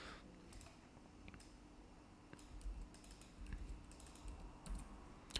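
Code is typed on a computer keyboard in soft, quick keystroke bursts with brief pauses, heard up close and fairly quiet with no voice.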